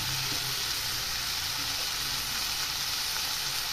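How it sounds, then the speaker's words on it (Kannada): Beans, carrots and potatoes fry in hot oil in a pan for upma, giving a steady, loud, continuous sizzle with no talking. "ಹಾಗಾಗಿ ಅದು ಬೀನ್ಸು, ಕ್ಯಾರೆಟು, ಆಲೂಗೆಡ್ಡೆ ಎಲ್ಲ ಹಾಕ್ತಾಯಿದ್ದೀನಿ"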